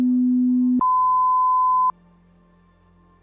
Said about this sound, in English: And these are called pure tones.